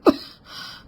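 A single short, sharp cough close by, followed by a faint, breathy hiss that trails off.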